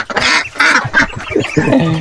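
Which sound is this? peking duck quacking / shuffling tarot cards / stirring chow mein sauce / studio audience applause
peking duck quacking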